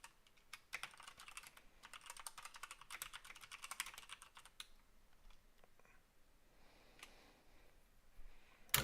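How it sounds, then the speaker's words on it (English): Rapid typing on a computer keyboard during an online draft, with dense runs of clicking keystrokes for the first few seconds, then sparser, quieter taps and a final louder clack. "So much typing."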